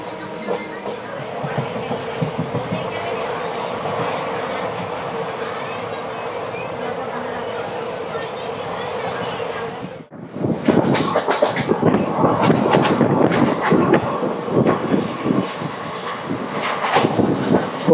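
The 17249 Tirupati-Kakinada Town Express runs past, a steady loud rumble with a tonal hum that gives way to louder rattling and clattering of wagons rolling by close.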